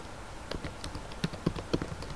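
A computer keyboard being typed on, a sparse series of soft key clicks with a few sharper taps, close and quiet against faint background hiss.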